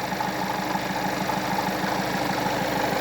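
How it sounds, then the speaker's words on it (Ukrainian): A Skoda Octavia A7 car engine idles steadily and smoothly after a cold start, a low even rumble with a faint rhythmic ticking, running alone with no voices. "Ось так працює двигун. Рівнесенько, тихесенько."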